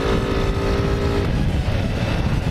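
A Honda Titan 125 motorcycle fitted with a DT-180 carburetor runs loud and close, its engine droning steadily with a rough, throaty buzz and a slight change in pitch midway, with no talking.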